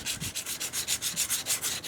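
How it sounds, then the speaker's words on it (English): Quick rhythmic hand sanding with 100 grit sandpaper on the rear trunk lip of a 1929 Chrysler, a dry scratchy rasp repeating about six times a second, close up and fairly soft. "This 100 grit is much less aggressive than the 80"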